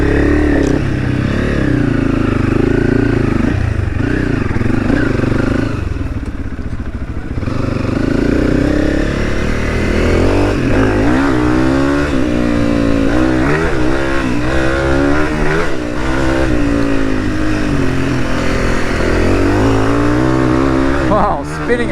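Honda CRF300 and KTM 500 dirt bikes ridden through the bush, engines revving up and down loudly and close with rising and falling pitch, under wind buffeting and occasional talk.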